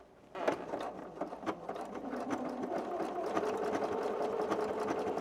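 A sewing machine stitches with a twin needle in steady, continuous runs, its motor and needle producing a rapid mechanical chatter at moderate volume, with a few short clicks at the start and no talking.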